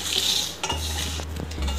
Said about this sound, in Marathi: आता आपण त्यात 8 ते 10 लसणाच्या पाकळ्या टाकणार आहोत, 1/2 इंच आलं आणि आपण याला नीट रोस्ट करून घेणार आहोत.